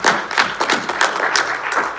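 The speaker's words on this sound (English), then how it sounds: "Round of applause for that." Audience applause at a panel on workforce AI: a short spell of loud, uneven clapping from a modest group, with individual claps standing out.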